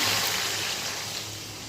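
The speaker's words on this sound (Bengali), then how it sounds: "তাহলে এবার জলটা দিয়ে দিই" Water poured into a pan of frying masala for a fish curry, a brief steady rushing splash close by that fades slightly toward the end.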